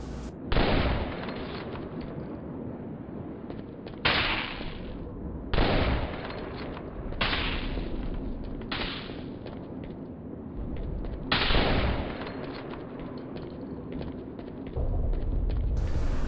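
Sustained automatic gunfire in Enemy Territory: Quake Wars, loud and close, coming in about six long bursts separated by brief pauses, with heavy booming onsets.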